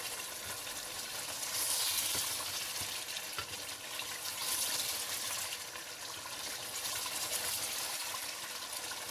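Mutton karahi sizzling in ghee in a Pakistani-style wok, a steady broadband frying hiss with occasional stirring scrapes, close and continuous throughout.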